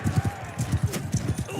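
Horse galloping in the Realm of Thrones mod for Bannerlord: rapid, rhythmic hoofbeats in steady clusters, close and moderately loud, with a player talking over them.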